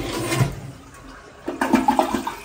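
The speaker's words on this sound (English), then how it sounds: "When you flush toilet at night and somebody else is sleeping, it's obnoxious" A noisy toilet flushes with a rushing gurgle of water that eases off briefly, then surges again into a louder swirling drain near the end.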